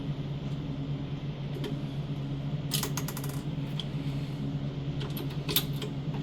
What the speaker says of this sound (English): this sewing machine is a killer. This is a World War II era